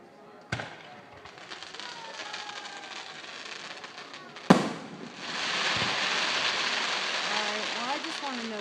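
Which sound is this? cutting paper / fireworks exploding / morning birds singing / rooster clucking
fireworks exploding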